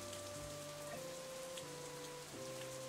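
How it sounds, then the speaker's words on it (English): Steady rain falls on streets in the visual novel Katawa Shoujo, a soft continuous patter under quiet sustained background music tones. "We keep measuring the rain-drenched streets one step at a time."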